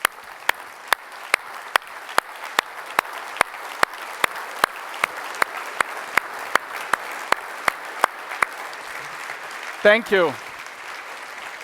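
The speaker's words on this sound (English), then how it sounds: "would you join me in standing up and give them all a big round of applause?" A large conference audience claps in a standing ovation, sparse sharp claps repeating steadily over a continuous wash of crowd noise; someone says a brief thanks near the end.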